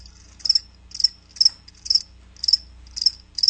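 Crickets chirp in short bright bursts, about two per second in a steady rhythm, close and clear over a faint low hum.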